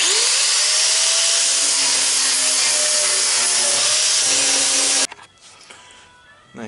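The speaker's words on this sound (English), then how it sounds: "Grind it." Angle grinder working a weld on the body of an airport limousine, a loud, sustained high-pitched grinding roar that holds steady for about five seconds, then cuts off abruptly, leaving quieter handling noise and a faint hum.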